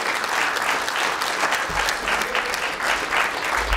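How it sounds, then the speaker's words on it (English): An audience at a film screening and Q&A session gives sustained, crowded applause, close and evenly loud throughout, with a low rumble joining partway through. "let's give John a round of applause."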